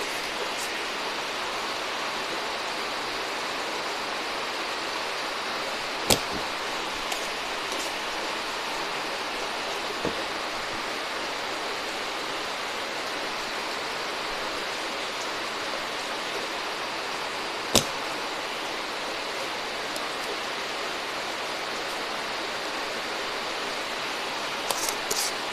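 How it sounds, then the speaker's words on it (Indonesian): Rain falls steadily outside in a soft, even hiss heard from indoors, with a few sharp clicks and knocks breaking through now and then and no talking. "Di sini lagi hujan"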